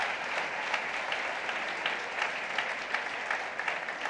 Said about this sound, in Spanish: Denle ese aplauso al Señor porque Él es digno de toda adoración.